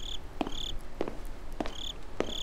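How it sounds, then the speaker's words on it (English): Crickets chirp in the Slender video game, with a steady high trill broken by regular soft pulses roughly every 0.6 seconds against a quiet night background, and no voices. "I don't like crickets."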